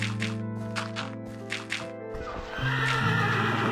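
A horse in Minecraft whinnies loudly with a long, shaky neigh, followed by a snort and louder rumbling noise with steady tonal music underneath.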